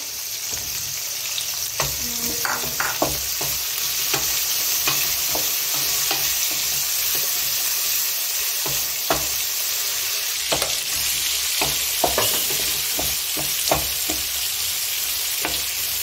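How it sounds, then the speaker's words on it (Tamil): Tomatoes with turmeric sizzle steadily in an oil-filled pan as a spoon scrapes and stirs now and then, loud and close without any talk. "நல்லா கோல்டிஷ் ப்ரௌன் வர வரைக்கும் நல்லா ஃப்ரை பண்ணிக்கலாம்."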